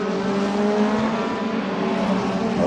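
A DTM race car runs on the Brands Hatch Indy circuit, its engine a loud, steady roar held close throughout with little change in pitch.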